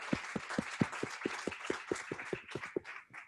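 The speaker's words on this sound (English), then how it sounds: "Once again, just a round of applause for Catherine, please." A small audience at a talk on hiring and training marginalised and neurodiverse people gives a short round of applause: about a dozen fairly distinct, evenly spaced claps over a light patter, fading at the end.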